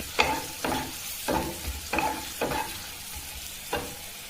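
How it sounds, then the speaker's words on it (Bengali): Garlic frying in a pan with green chillies nearby, stirred in about six regular scrapes over a steady soft sizzle, close and moderately loud with no talking. "এখন আপনারা দেখতে পাচ্ছেন বন্ধুরা, যে রসুন ভাজা হয়ে গেছে।"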